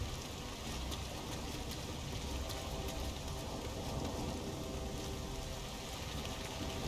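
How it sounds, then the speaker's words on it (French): Steady, even hiss of rainfall in the video game Nioh, a constant wash of rain with no breaks and no talking. "Un peu de pluie pour faire planter le bazar"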